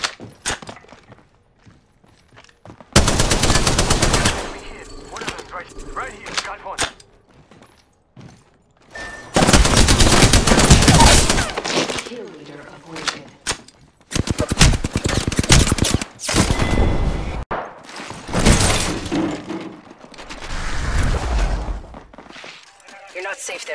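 Bursts of gunfire from the video game Apex Legends come in several loud, sharp volleys separated by short gaps, with game sounds filling the spaces between them.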